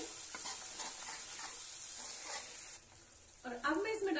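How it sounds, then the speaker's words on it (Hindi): Spices frying in oil for a cabbage and potato curry, a steady close sizzle with scraping stir strokes throughout, growing louder and busier near the end. "और अब हम इन सारे मसालों को इस तरीके से भून लेंगे चलाते हुए।"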